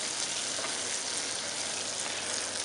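Tasso, a Cajun-spiced smoked ham, fries in a pan with bacon bits, giving a steady, moderate sizzle and crackle with no voices.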